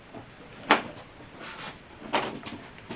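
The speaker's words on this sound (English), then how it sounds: "This nice barn style door" A barn-style sliding door inside an RV rolls along its track, making two soft knocks about a second and a half apart over a quiet, faint background, with no talk.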